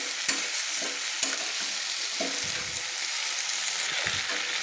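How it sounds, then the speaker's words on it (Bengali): Taro stems and greens sizzling steadily in a hot pan, with a spatula scraping and turning them every second or so; close, constant frying hiss with no talking. "গাঁটি কচু আর শাক আমি ভালো করে নেড়ে নিচ্ছি।"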